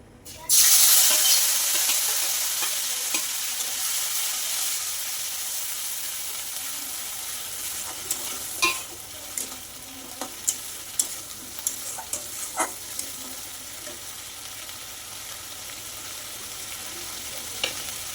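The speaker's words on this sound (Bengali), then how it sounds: "একটা তেজপাতা ফোড়ন দিয়ে দিচ্ছি" A bay leaf goes into hot oil for tempering: a sudden loud sizzle swells, then slowly settles into a steady fry, dotted with sharp stirring clicks near the pan, with no talking.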